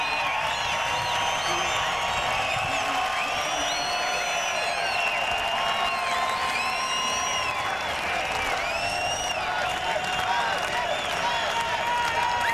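Race crowd at a NAPA Auto Parts 200 stock car race saluting a hometown driver, a broad sustained wash of cheering, whoops and applause filling the stands, steady and loud throughout with voices mixed in.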